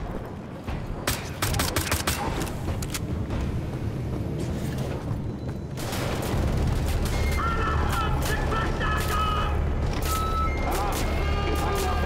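A grenade blast in the shooter Wolfenstein: The Old Blood: a sudden heavy boom that swells into a sustained rumble, surrounded by combat noise with bright beeping tones. A voice talks throughout.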